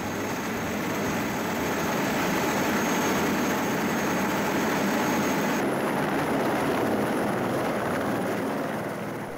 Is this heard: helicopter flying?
yes